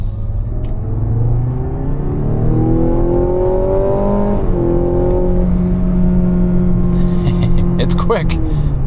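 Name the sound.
Mazda CX-70 PHEV accelerating hard on highway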